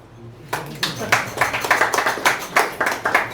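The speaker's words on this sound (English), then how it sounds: "I would love a clap." Audience in a talk venue breaking into clapping after a brief quiet start, scattered hand claps building into a steady patter of applause, fairly close, with a low background hum underneath.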